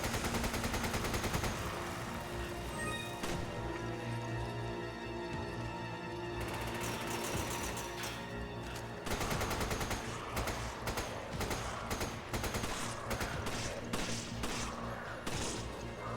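Repeated gunfire from a Resident Evil 5 gameplay session: dense bursts of loud shots and impacts over a steady game soundtrack, with sharp volleys crowding the second half.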